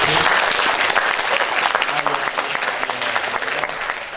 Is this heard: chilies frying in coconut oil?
no